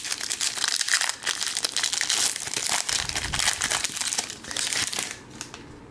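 A Topps Series 1 baseball card pack is torn open, making loud, close crinkling and tearing of foil wrapper that continues for several seconds with uneven rustles.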